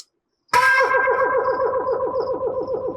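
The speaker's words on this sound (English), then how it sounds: "There's a flute echo." In a dance track, a flute echo effect opens with a sharp, loud flute note after a brief silence, then repeats in a rapid train of echoes that slowly fade and blur together.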